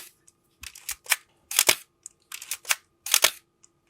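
A Minolta X-700 camera shutter fires repeatedly at a slow speed, each release an audible two-part clack with a short gap between opening and closing, crisp and close in an otherwise quiet room.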